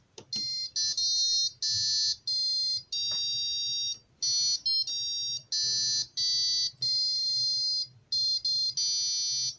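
An Arduino piezo buzzer plays a simple melody of bright, shrill electronic beeps in short, evenly spaced bursts, loud and close, with no voices present.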